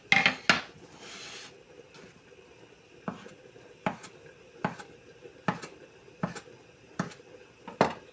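Knife chopping through floured homemade noodle dough on a board, for sauerkraut soup with smoked meat: a dozen sharp, separate knocks at an irregular, steady pace, close and clear, with a brief rustle of flour or dough near the start.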